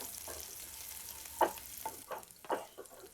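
Soaked chana dal sautéing in oil with ground masala for a cabbage dish, a faint low sizzle broken by several sharp stirring scrapes and taps close by.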